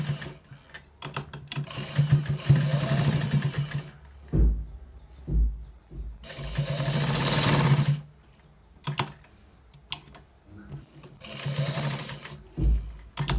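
Sewing machine running in bursts while stitching lace into a trouser waistband, several bursts of stitching separated by short pauses and small handling clicks, close and fairly loud.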